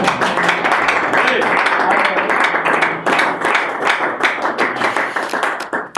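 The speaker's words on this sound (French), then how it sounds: "Acclame Jésus la main." Congregation clapping hands in unison during a church service, a steady dense patter that runs throughout, with voices mixed in underneath.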